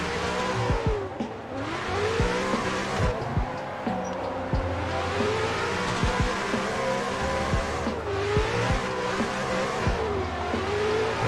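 In a drift racing video game, a simulated car engine revs and falls with repeated throttle stabs, its pitch sweeping up and down with faint tire squeal. The sound is continuous and loud throughout, with no voices.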